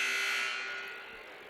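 A substitution buzzer blares once during a women's college basketball game between St Kates and St Bens, a loud, steady electronic tone that fades out over about a second in the gym.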